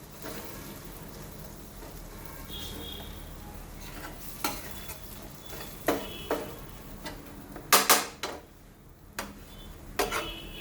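Spices are stirred into a paneer mixture on a tava, with scattered clicks and scrapes of the spoon against the pan over a soft, low background hiss, growing busier toward the end.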